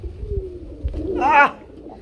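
A pigeon at a pigeon sale gives a short, soft coo near the end, close by, against low background noise.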